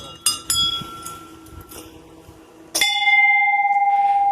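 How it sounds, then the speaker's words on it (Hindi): A temple bell at the hilltop Maa Kali temple in Kharsia, Chhattisgarh, rings out with a few sharp clangs, then one loud strike that hums and sustains for over a second, close by with faint background noise. "यहाँ पर घंटी भी देखने को मिल जाएगा।"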